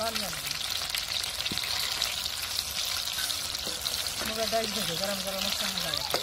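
Ridge gourd bhaji made with moong flour batter frying in hot oil, a steady close sizzle throughout with light stirring clinks, while a voice talks over it.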